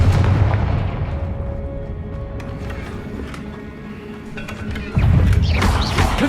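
Confringo blasting spells go off in the video game Hogwarts Legacy, a rumbling chain of booming explosions with a sharp new loud blast near the end, fairly close and dense.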